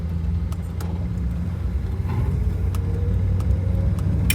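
A 1961 Buick engine fitted with a newly installed Edelbrock carburetor idles steadily with a low, continuous rumble, close and even throughout, with faint light clicks over the running motor.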